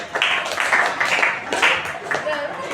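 Applause and clapping for a participant during a Quran recitation coaching session for academic supervision, a burst of claps mixed with chatter and voices, moderately loud throughout.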